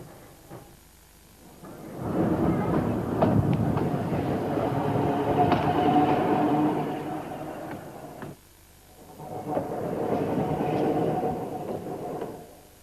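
An electric street tram in Blackpool rolls past twice, a long rumbling passage with wheel and rail noise followed by a shorter one, fairly close and steady, with no talk.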